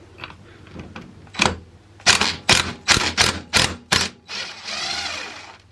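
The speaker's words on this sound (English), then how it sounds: "I just have a 24mm socket on my impact wrench, and this should be enough to get it off" Impact wrench with a 24mm socket hammering at an alternator pulley nut on a water-cooled alternator: a tentative burst, then six or seven loud rapid rattling bursts close by, ending in a longer whirring spin as the nut frees.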